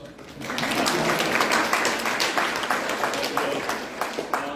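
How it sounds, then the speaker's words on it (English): Audience applause at a hospitality event, clapping swelling after a moment and continuing steadily, moderately close, with some scattered louder claps. "oh, you can applause."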